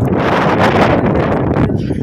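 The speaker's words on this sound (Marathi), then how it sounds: "अक्षरशः एवढा वारा आहे" Strong wind buffets the microphone in a steady, loud roar with rustling, no voices heard.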